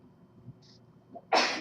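A single sharp sneeze bursts out in a quiet math classroom after a few soft breaths and faint murmurs, brief and close.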